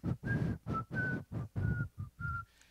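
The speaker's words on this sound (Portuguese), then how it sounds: "e vou passear na rua, e vou assobiar" A person in a church sermon setting whistles a short, clear tune of about seven distinct notes in an even rhythm, close and alone with no talking.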